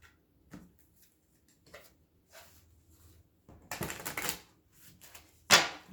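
Tarot cards are shuffled in short bursts of riffling and tapping, with soft, sparse clicks early and then a louder flurry of crisp papery snaps toward the end, heard close up.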